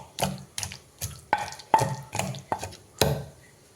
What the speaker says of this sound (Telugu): వెల్లుల్లి వేసుకొని దంచుకుందాం.